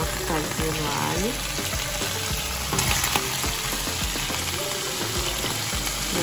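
Minced garlic frying in melted margarine in a pan, a steady dense sizzle running throughout at close range, with faint clinks of a utensil.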